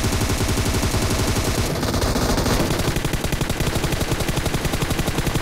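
Rapid automatic M249 and DP-28 gunfire in the video game PUBG Mobile, a loud, dense, continuous stream of shots that barely pauses throughout.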